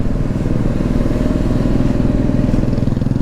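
A Bajaj NS 200 motorcycle engine runs close and loud, giving a steady, throbbing exhaust pulse with no talk over it.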